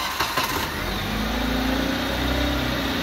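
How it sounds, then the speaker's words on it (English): A 2005-2009 Kia Spectra's engine cranks briefly and catches, then settles into a steady, close idle with a low rumble that lasts to the end. "So let's go ahead and start the car."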